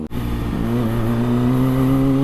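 Kawasaki Ninja ZX25R motorcycle engine idling and revving up close, a steady high-pitched inline-four drone with rising harmonics that hold loud and continuous throughout.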